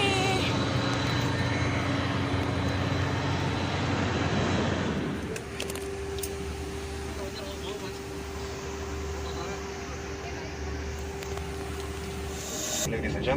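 A Jetways Airlines Fokker 50 turboprop's engines drone steadily from inside the cabin, a loud, even hum with a tonal whine, while a voice speaks over it.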